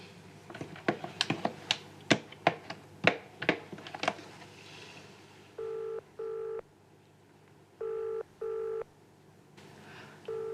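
Telephone number dialed in a Hong Kong TV action drama: a quick run of sharp keypad clicks, then several paired electronic tone bursts separated by short pauses, fairly close and with no talk.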